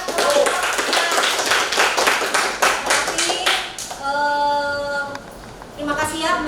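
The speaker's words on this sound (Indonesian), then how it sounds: "kasih aplaus buat kelompok" A classroom applauds a student group with dense clapping for about four seconds, followed by a voice speaking and a brief return of claps at the end.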